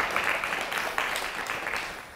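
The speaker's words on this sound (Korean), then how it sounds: "귀한 시간 내주신 우리 이준 박사님께 다시 한번 큰 박수 부탁드리겠습니다" A lecture audience at a Korean science talk on plant resource banks gives a short round of applause, moderately loud scattered clapping that fades gradually over two seconds.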